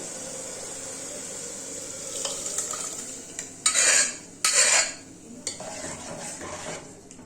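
Lentils are tipped into a pot of sambar, followed by a few scraping stirs with a spoon against metal and a soft sizzle underneath; no voices.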